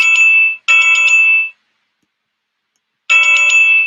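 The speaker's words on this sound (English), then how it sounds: "Once again, chimes." Bright electronic chime tones ring out in two quick bursts, a pause of silence, then a third burst; loud and close.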